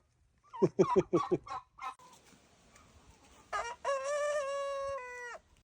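Several quick, throaty clucks in a burst, followed by a loud, drawn-out rooster crow with harmonic tones, no talking.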